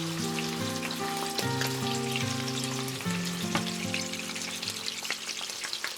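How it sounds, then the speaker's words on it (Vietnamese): Pre-steamed silver mackerel shallow-fries in oil in a pan over medium heat, a steady, close sizzle running throughout with soft music playing underneath. "Rồi mình cho cá vào chiên, mình mở lửa vừa ha."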